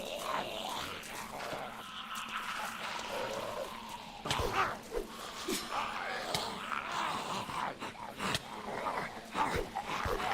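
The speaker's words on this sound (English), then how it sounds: "All I hear is growling." Low snarling growls and dog-like yips from a Minecraft SMP game world, recurring through the clip with thumps and clicks layered over a busy mix.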